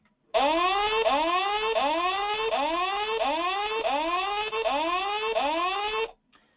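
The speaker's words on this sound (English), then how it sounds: "So here's a warning alarm" A G7 safety monitoring device sounds its warning alarm: a loud, steady run of repeating rising electronic chirps, about eight cycles in six seconds, with nothing else heard and ending abruptly.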